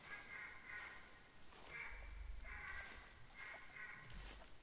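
Birds in theHunter: Classic squawk in a series of repeated harsh, crow-like caws, faint and somewhat distant, coming in a loose rhythm over a soft outdoor backdrop.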